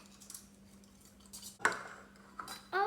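A utensil clinks against a container now and then as white acrylic paint is mixed with dish soap, giving a few sparse, light taps over a faint steady hum.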